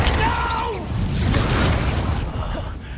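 A Confringo fire spell bursts in Hogwarts Legacy with a loud, deep boom and rolling rumble that fades over a few seconds, while a voice speaks at the start.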